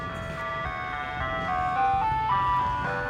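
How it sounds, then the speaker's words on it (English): An ice cream truck rolls past playing its tinkling melody, the tune steady and fairly close over low road rumble, with no talk. "Don't mind the ice cream truck coming by."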